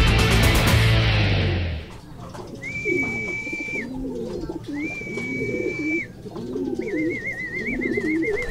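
Racing pigeons coo in a loft in a steady run of soft, rounded, repeated calls close by. A loud broadband rush fills the first two seconds before the cooing takes over.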